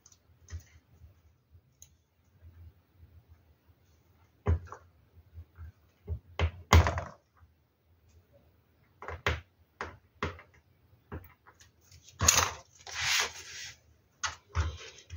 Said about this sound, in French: je vais mettre ma fermeture avec des aimants